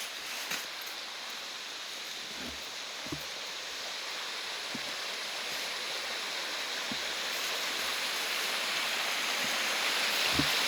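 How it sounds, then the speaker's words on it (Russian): Continuous rushing water of a taiga brook flowing nearby, a steady broadband wash with occasional soft knocks, no voices. "ручеек, я не могу от него просто"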